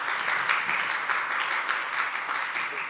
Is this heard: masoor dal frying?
no